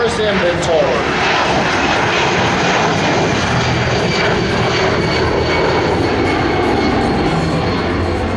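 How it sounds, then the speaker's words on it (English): A Royal Canadian Air Force C-17 military transport jet flies past at the Abbotsford airshow, its engines making a loud, continuous roar that stays strong throughout, with a commentator's voice beneath it. "From the left, one of 5 C-17s currently in the Royal Canadian Air Force inventory."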